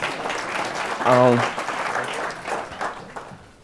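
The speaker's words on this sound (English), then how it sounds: "Give you applause." Audience applause at a public conversation event with a national teacher of the year, a moderate burst of clapping under a voice, with a brief sung or hummed tone rising above it.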